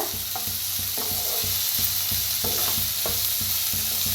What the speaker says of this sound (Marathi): आता कांद्याला भाजून घेऊया